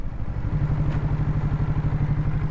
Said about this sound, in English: Hold the clutch, shift the gear, let go of the clutch slowly and the throttle a little bit